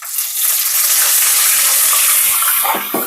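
Corn kernels frying in hot oil for a crispy street-style corn snack, a loud steady sizzle filling the whole stretch with a few sharper bubbling bursts near the end.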